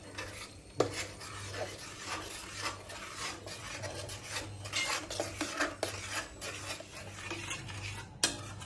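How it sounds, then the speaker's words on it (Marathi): Chili, ginger and garlic paste roasts with onion paste in a pan, a steady close sizzle overlaid with constant scraping and rubbing strokes of a spoon stirring, plus a low hum in the background and no talk. "आता आपण मिरची, आलं आणि लसूण त्याचा ह्याच्यात पेस्ट टाकूया. टाकतोय. आणि ते भाजून घेऊया हा. परतून चांगलं."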